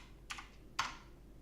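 Two soft, separate keystrokes on a computer keyboard in a quiet room, faint and close, with no talking.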